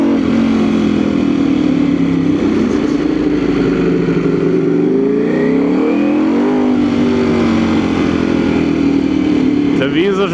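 A 2019 Ducati Panigale V4 motorcycle engine running loud and close, its pitch rising and falling through revs over a continuous roar, with a voice talking over it.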